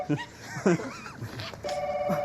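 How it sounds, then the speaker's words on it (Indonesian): A telephone rings in a comedy skit, a steady electronic ring tone starting partway through after brief vocal sounds, moderately loud and sustained. "Ada telepon."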